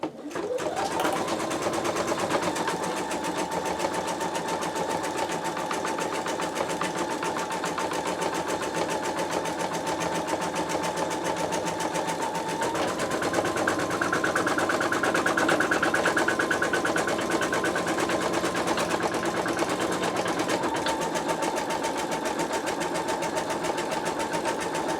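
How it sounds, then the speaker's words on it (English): Embroidery machine running a basting stitch on fabric held in a Sew Tech PA116M 260x200mm magnetic hoop, a continuous close rhythmic whirring and clatter that holds steady throughout, with no one talking. "it just finished stitching out the basting"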